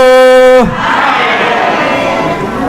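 A large audience at a Halal bi Halal gathering of retired military families shouts a greeting back in unison, a dense, loud roar of voices following a sustained amplified voice.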